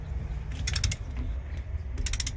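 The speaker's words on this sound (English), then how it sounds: "So now I just got the torque wrench on here, again torquing to 100 foot-pounds." A torque wrench tightens an RV wheel's lug nuts to 100 foot-pounds, giving two short, close bursts of ratcheting clicks over a low background hum, with no talking.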